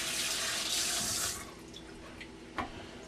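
Tap water runs steadily into a sink as hot peppers are rinsed, a broad rushing hiss that eases after the first second or so, followed by a couple of faint knocks and a small splash near the end.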